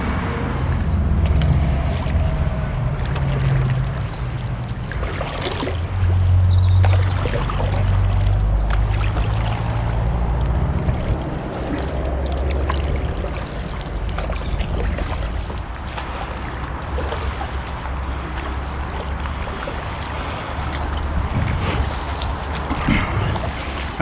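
A paddle board is launched into the water and paddled on an early morning canal trip between Rugby and Newbold, with steady splashing and water movement under constant wind noise on the microphone.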